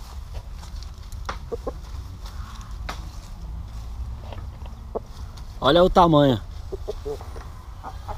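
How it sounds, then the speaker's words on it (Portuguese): Índio Gigante giant chickens, breeding hens on a farm, give a loud, harmonic squawk or cluck lasting about a second midway through. Talk and faint scuffling footsteps continue around it. "Essas que estão correndo de mim aqui são as matrizes, as galinhas."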